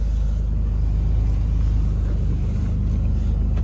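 A 1996 Ford Ranger pickup crawls along in four-wheel low range, its engine giving a steady, close low rumble that holds even and unbroken throughout.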